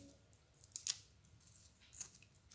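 Scissors snip cotton thread while making a bracelet, giving a couple of quiet, crisp cuts over a low background hum.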